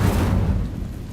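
Incendio fire spell cast in the video game Hogwarts Legacy: a heavy, booming whoosh of flame that hits loud at once and then rolls off into a fading low rumble over about a second.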